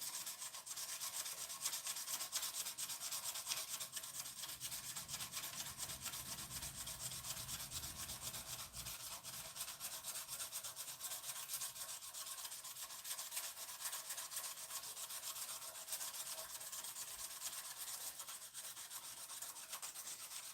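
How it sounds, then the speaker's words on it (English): Steady hand sanding of a wooden pen, a soft continuous rubbing hiss with a gentle repeating stroke, faint and close with no voices. "I'm reading as I'm sanding here"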